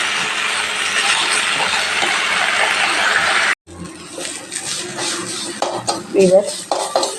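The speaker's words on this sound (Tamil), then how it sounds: "நல்லா இந்த கொஞ்சம் எண்ணெயில் நல்லா வதக்கி எடுக்கணும். சிம்மில் வச்சு நல்லா வதக்கலாம்." Manathakkali greens stirred in a little oil in a pan over low heat, with close, steady clinks and scrapes of a spoon against the metal pan, a brief pause partway through, then more irregular stirring and clatter.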